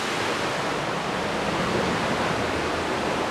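Cheonjeyeon waterfall on Jeju, Korea pours in a steady, dense roar of falling water, broadband and unbroken, close and fairly loud with no voices.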